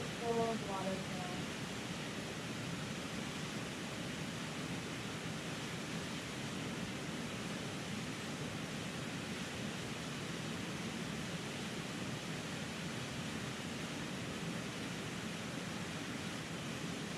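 A waterfall in the Catskills rushes in a steady, unbroken broadband roar, soft and even throughout, with faint chimes at the start.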